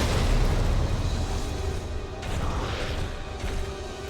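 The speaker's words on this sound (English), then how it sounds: "Grenade." A grenade blast in the Resident Evil 2 remake, a heavy booming explosion with rumbling debris that fills the whole stretch, loud and close with no talking.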